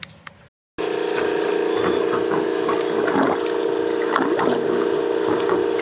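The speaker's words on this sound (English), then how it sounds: "You can see the water coming out." Water forced out of a swimming pool return line while closing the pool for the season, a steady pump-driven gush and hiss that starts abruptly after a brief silence and runs on loud and continuous.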